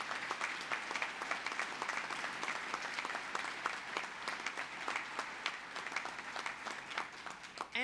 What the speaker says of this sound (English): let's give the parents, the families, the grandparents, and everybody a huge round of applause